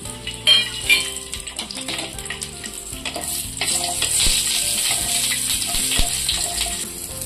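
Green chilies, ginger and garlic roasting in hot oil in a pan, a steady close-up sizzle and crackle with some stirring scrapes, loud and continuous with no talk over it.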